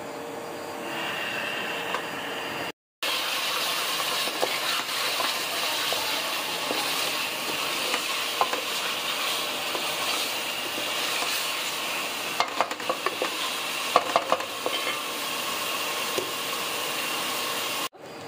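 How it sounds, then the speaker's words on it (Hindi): Beef fries (bhuna) in a pan over high heat, a loud continuous sizzle with occasional stirring clatter and scrapes, briefly cut off near the start and otherwise steady, with no talking. "अब इसकी थोड़ी सी आंच तेज करेंगे हम और इसकी बुनाई करेंगे"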